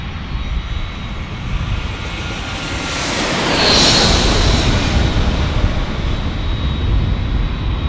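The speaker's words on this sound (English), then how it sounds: "Here's our A321 from DFW. Getting some wake from that beauty." An Airbus A321 jet arriving from DFW passes overhead at San Diego, a broad roar swelling to a loud peak midway with a whining tone, then holding strong as it moves off.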